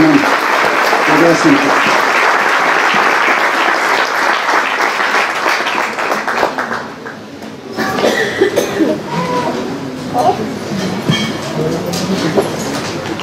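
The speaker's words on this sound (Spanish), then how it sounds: "Den un aplauso al Señor Jesucristo." Church congregation applauding during a sermon, loud sustained clapping for several seconds that fades, then scattered claps and crowd murmur with some voices.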